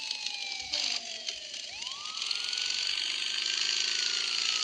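Police car siren in the video game GTA 5, a loud wailing tone sweeping down and then rising again steadily, close and continuous with broadband noise underneath.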